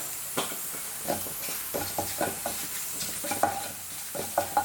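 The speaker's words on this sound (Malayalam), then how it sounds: "ഇപ്പം ഇതിലത്തെ ഉള്ളി കണ്ടോ ഫ്രൈ ആയിട്ട് വന്നിട്ടുണ്ട്. ഇതിലേക്ക് നമുക്ക് ചതച്ച മുളക് ഇട്ട് കൊടുക്കാം." Onions fry with crushed chili in a pan for a home-style lunch curry, giving a steady close sizzle and hiss broken by repeated scraping stirs, with no voices.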